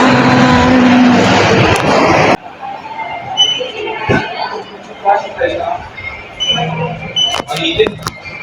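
An old vintage car passing on a road in downtown San Fernando, Pampanga: a loud rumble fills the first two seconds, then drops to quieter street traffic noise with scattered clanks and someone talking nearby.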